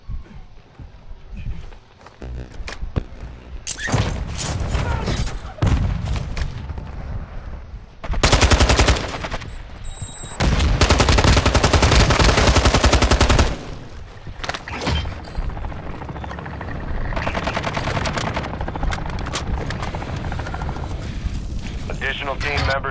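Automatic and single-shot gunfire bursts in a Call of Duty: Modern Warfare II match, loud and close, with heavy sustained volleys and scattered shots among clattering movement and brief radio-style voices.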